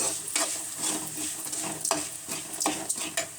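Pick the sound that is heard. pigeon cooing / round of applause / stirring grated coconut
stirring grated coconut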